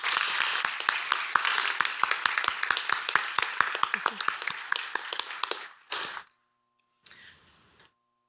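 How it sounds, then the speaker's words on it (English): Applause from an audience at a city community meeting, a dense run of clapping that holds steady for several seconds and then stops abruptly, followed by a brief voice. "Please join me in giving Stephanie a round of applause."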